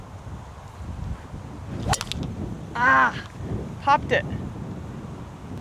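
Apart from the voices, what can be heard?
wind outdoors on golf course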